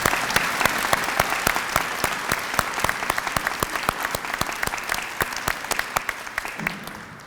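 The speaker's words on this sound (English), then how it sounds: "Let's give these students a round of applause" An audience at a nursing candlelighting ceremony claps for nursing students, a steady stream of distinct, evenly spaced claps that holds at moderate volume before easing slightly at the end.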